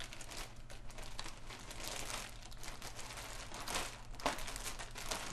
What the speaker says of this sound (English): if I wrap that in wet paper towels, completely cover it in wet paper towels, and drop it in a plastic bag